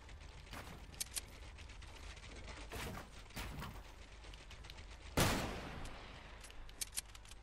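Gunfire in the video game Fortnite, scattered shots and bursts at moderate distance with one louder nearby blast midway, over a steady background of game ambience.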